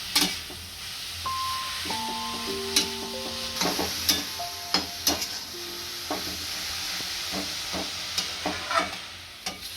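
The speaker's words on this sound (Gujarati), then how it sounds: "આપણા જેમ ગાજર શેકાતા જાય એમ કલર બદલાતો જશે." Grated carrots roasting in a pan for gajar halwa, a soft steady sizzle with repeated scraping strokes of a spoon stirring, close and moderate in level.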